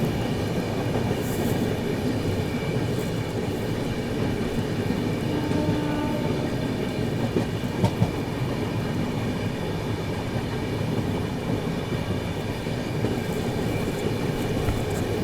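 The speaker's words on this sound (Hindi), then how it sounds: "ये ट्रेन तो अपनी ये नए वाले ब्रिज से निकल रही है" The Bundelkhand Express rolls across a new bridge, giving a steady, loud rumble of wheels and carriages that holds unbroken for the whole stretch, with a couple of brief clanks near the middle.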